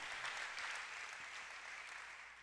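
A church congregation applauds, a soft, steady wash of many hands clapping heard from a distance, even and unbroken for a couple of seconds.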